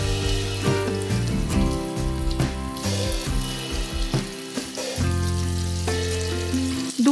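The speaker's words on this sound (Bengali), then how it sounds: "কড়াইয়ে সাদা তেল গরম করে চিকেনগুলোকে খুব হালকা করে ভেজে নেব" Chicken pieces frying lightly in hot white oil in a wok, a loud rain-like sizzle with bursts of spattering and a brief drop in intensity, no talking.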